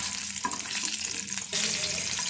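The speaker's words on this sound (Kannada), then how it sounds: "ಈಗ ಟೊಮೊಟೊ ಮಾತ್ರ ಫ್ರೈ ಮಾಡ್ತಾ ಇದ್ದೀನಿ, ನೋಡ್ಕೊಳ್ಳಿ." Tomatoes fry in a pan on a home stove with a steady, bright sizzling hiss that swells slightly partway through, close and continuous with no talking.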